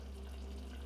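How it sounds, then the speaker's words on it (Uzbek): Syrup boiling in a pot gives a faint, steady bubbling hiss with a low hum beneath it, continuous and unbroken throughout. "bizning qiyomimiz hozir qaynayapti"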